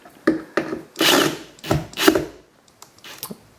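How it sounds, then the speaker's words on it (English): A power drill backs screws out of a boat's seat bolster in several short bursts of close whirring, separated by brief pauses. "we're going to take off the 8 screws that hold the bolster to the seat pan"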